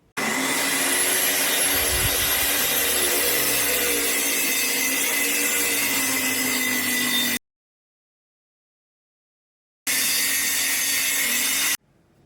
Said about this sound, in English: going to run the track saw down there and joint these two things together